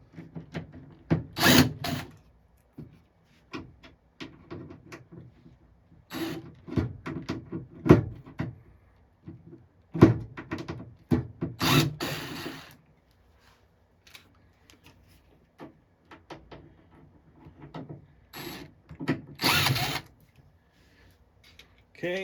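A power drill driving security screws into an arcade cabinet during a restoration, short separate whirring bursts with knocks and handling sounds between them.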